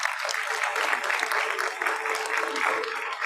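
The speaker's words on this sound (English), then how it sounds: "Parents, please continue to cheer for our little ones." Parents applaud and cheer steadily in a hall at a pre-primary school convocation ceremony, a dense continuous patter of clapping with a faint voice underneath.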